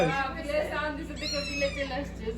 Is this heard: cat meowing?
yes